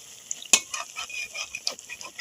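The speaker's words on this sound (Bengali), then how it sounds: "এইভাবে হালকা করে খুন্তিটা দিয়ে তোলাটা একটু ছাড়িয়ে দিতে হবে।" A spatula stirs and loosens semolina (sooji) langcha sweets frying in a pan, giving soft scraping strokes over a steady sizzle, with one sharper clink of metal near the start.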